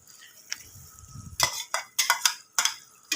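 Yogurt tinted with yellow food colour is stirred into chicken biryani in a pot, with a low soft rumble followed by several sharp scraping and clattering strokes of a spoon against the pan.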